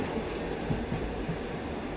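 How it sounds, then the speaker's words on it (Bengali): A train rumbles steadily along at moderate distance, a continuous low mechanical drone with faint rhythmic undertones and no talking. "আবার ট্রেন ধরে বাড়ির উদ্দেশ্যে রওনা দিচ্ছি।"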